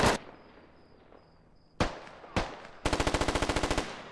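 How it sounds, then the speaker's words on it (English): Assault rifle gunfire in the tactical shooter Squad: two sharp single shots, then a fast, even burst of about a dozen rounds, loud and close, following an earlier distant crack. "Kuba gets shot by an AR from a north roof"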